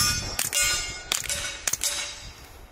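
Three sharp metallic clangs ring out as bullets from an OCL Lithium 9 pistol strike a steel target, each hit spaced about half a second apart with a short ringing decay.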